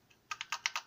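Keys clack on a heavy, well-built BBC Micro computer keyboard, a quick burst of about six close, crisp presses after a short pause, with no speech.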